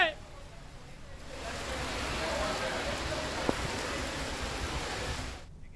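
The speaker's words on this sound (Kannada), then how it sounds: "ಬೆಂಗಳೂರಿನ ಹಲವು ಏರಿಯಾಗಳಲ್ಲಿ ನಿನ್ನೆ ಮಳೆ ಸುರಿದಿದೆ" Rain falls over Bangalore, a soft, steady wash of hiss at low volume that holds evenly for several seconds before cutting off.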